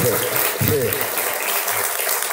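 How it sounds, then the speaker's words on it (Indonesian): Audience applause at a haul (memorial gathering) for KH. Ahmad Muzammil with a speaker, a dense wash of clapping from a crowd, heard under a voice talking over it throughout. "tepuk tangan semua, tepuk tangan"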